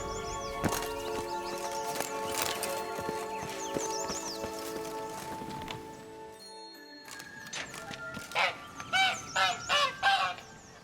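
A caged egg-laying bird in The Witcher 3 gives a burst of rhythmic honking clucks near the end, after a stretch of layered game sounds and hoofbeats.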